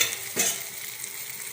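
Dried anchovies fry in a pan on a home stove, giving a steady, close hiss of hot oil with one quick scraping stir near the start, with no voices.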